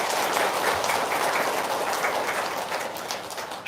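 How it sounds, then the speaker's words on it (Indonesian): Sustained applause from an audience at a motivational talk, dense and steady clapping that gradually softens toward the end. "Tepuk tangan dulu dong."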